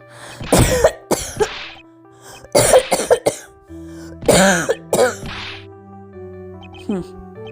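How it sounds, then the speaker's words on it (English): Several harsh, racking coughs come in clusters, a coughing fit with throat-clearing. Background music plays quietly underneath, and the bursts are loud and close. "Your coughing fits are getting worse."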